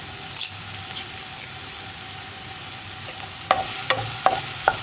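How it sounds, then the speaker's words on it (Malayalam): Okra with curry leaves stir-fries in an open pan over a medium flame. A soft, low sizzle runs underneath while a spatula scrapes and clicks against the pan in a few sharp strokes, near and fairly quiet. "ഇതിനെ ഒരു മീഡിയം ഫ്ലെയിമിലിട്ടിട്ട് തുറന്ന് വെച്ച് തന്നെ ഇളക്കി കൊടുക്കുക"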